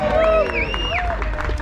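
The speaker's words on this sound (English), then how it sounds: "Oh, you didn't cheer like that for me." A crowd at a Blackpool Pleasure Beach experience event cheers and whoops for a speaker, a short, loud burst of mixed voices with a few high whistles, mingled with nearby talk.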